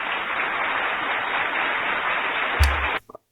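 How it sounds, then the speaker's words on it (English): Applause from a hospital scene in the dubbed anime Monster, a steady dense crowd clapping that holds for about three seconds before cutting off abruptly. "let's have a round of applause for Dr. Boyer and Dr. Eisen"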